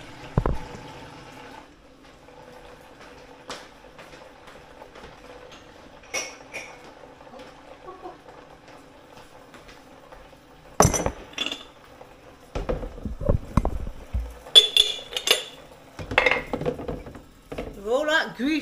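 Greasy, sticky pots and crockery being handled close by, with scattered clinks and knocks that build into a busier burst of clattering and ringing metal and glass contacts toward the end, alongside faint background hum.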